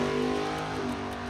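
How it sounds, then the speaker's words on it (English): Drag racing car idling at staging, its engine chugging and rattling in a steady, loud, dense drone close by with no pauses. "The car is chugging and clugging."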